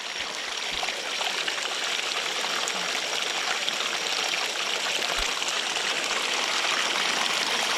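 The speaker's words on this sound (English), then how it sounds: "There's your water." Water is poured out of a full bucket, giving a steady, close splashing rush that continues unbroken from start to finish with no voices.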